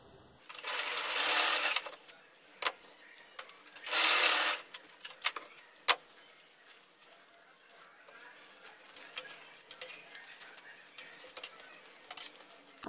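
A domestic sewing machine runs a zigzag stitch on a small fabric pouch, two short loud bursts of motor whir separated by pauses, followed by quieter handling clicks and rustles.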